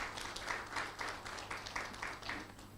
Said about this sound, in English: Come on, let's welcome Feyejimi with a round of applause.